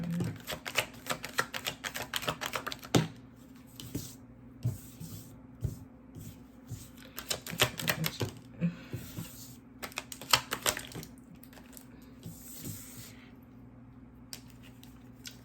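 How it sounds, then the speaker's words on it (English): A deck of tarot cards is cut and shuffled on a table: bursts of crisp, rapid clicking and riffling, close and fairly quiet, broken by short pauses, with no talking. "I am going to cut the deck"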